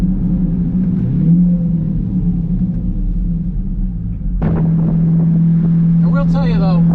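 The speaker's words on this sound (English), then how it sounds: "just because the exhaust is that much louder now." A C8 Corvette fitted with an AWE Track Spec exhaust rumbles at a steady, loud, deep drone, then steps up abruptly to a harder, louder note partway through, with a brief voice near the end.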